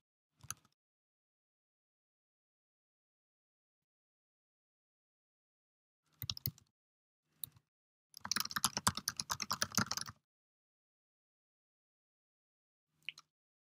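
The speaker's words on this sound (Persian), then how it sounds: "در بخش کانسول من این عدد کلان رو تایپ میکنم" Keys on a computer keyboard being typed while entering a number into a browser console: a single tap, a short burst, another tap, then a two-second run of quick clicking keystrokes and a last faint tap, with silence between.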